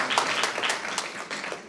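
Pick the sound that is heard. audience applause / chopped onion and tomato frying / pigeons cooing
audience applause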